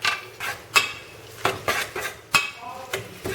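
A stainless steel spoon clanks against a stainless steel bowl while stirring a rice noodle salad with leafy greens, herbs and carrot. The bright metallic clinks repeat in a quick, fairly even rhythm.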